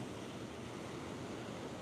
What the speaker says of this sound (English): all of that water out there, just crashing away